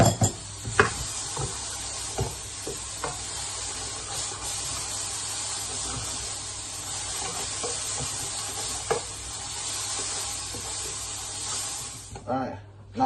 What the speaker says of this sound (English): I've just got my onions and mushrooms simmering on the hob ready.